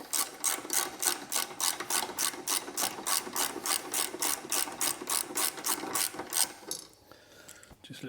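Rapid, regular ratchet clicking from a hand ratchet undoing small 8mm bolts above the fan relays behind the headlight of an MG ZS 180, close and steady for about seven seconds before stopping.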